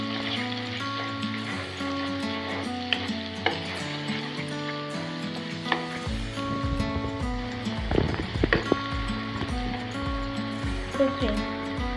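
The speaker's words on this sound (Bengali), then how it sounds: "পেঁয়াজ কুচি ভাজা হবে" Chopped onions sizzle and fry in a pan while cooking Bengali potato and bitter gourd chorchori, a steady crackling hiss with occasional stirring clatters, set under a melodic music track.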